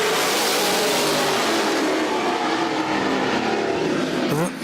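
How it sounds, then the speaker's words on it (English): Late model race cars roar together at the start of a 20-lap feature race on a short track, a dense, loud wall of engines revving and accelerating with no talk. "Late model feature. Let's go, feature racing."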